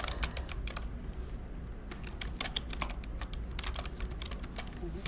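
Someone types on a computer keyboard, producing a fast, irregular run of close, crisp key clicks with brief pauses between bursts, against a quiet background with no speech.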